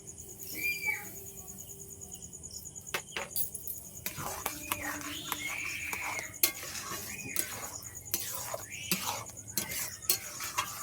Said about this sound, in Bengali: চিনিটা দিয়ে এইভাবে আপনারা নেড়ে দেবেন, ঘেটে ঘেটে দেবেন।